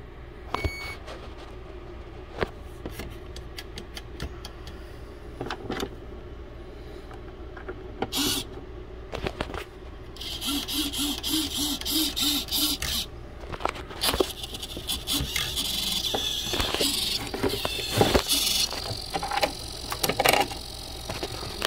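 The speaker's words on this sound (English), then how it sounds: "it's the servo. It's just a servo. Most racket I've got out of it" Servo motor in a Blackjack 42 RC boat running in intermittent bursts of whirring and buzzing, close by, with clicks and handling noises between bursts.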